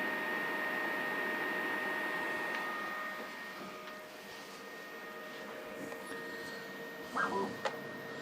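A Creality K1 Max 3D printer lays down a prime line, giving a steady whirring fan hum with thin motor tones, then a few brief stepper chirps near the end.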